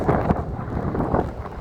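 Heavy rain pours at a construction site near Navi Mumbai Airport, a dense, steady hiss with a few louder gusty bursts over a short stretch.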